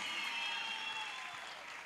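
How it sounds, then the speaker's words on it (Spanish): Crowd at a cheerleading competition applauds in a distant, faint wash of clapping and cheering, steady across the short stretch, with high tonal sounds mixed in. "¡Fuerte el aplauso para"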